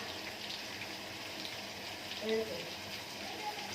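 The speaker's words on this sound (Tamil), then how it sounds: "சாந்தி, இவன் தண்ணி பிடிச்ச" Water runs steadily from a tap with a soft, continuous hiss, while faint voices sound in the background.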